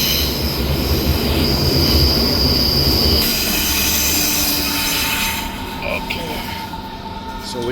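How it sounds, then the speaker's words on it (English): A Berlin S-Bahn train runs on its rails with a loud, steady rumble and wheel squeal close by, easing slightly toward the end. "So these are the trains in Berlin."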